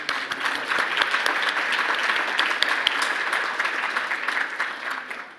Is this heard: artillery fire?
no